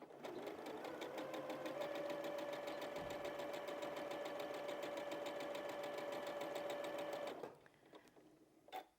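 A sewing machine stitches a Dresden snowflake quilt block in a fast, even, close hum for about seven seconds, then stops, leaving a few quiet handling clicks.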